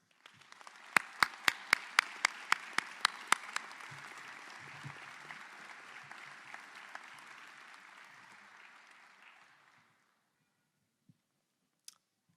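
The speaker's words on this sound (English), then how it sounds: "With a big round of applause, let's welcome to the podium" An audience applauds an alumnus coming to the podium. Loud, evenly spaced sharp claps ring out close by over a broad crowd applause that swells, then fades to silence near the ten-second mark, followed by a couple of faint knocks.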